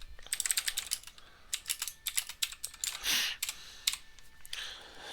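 C++ code being typed on a computer keyboard: rapid bursts of crisp key clicks in uneven runs with short pauses and a heavier keystroke midway, close and clear with no talking.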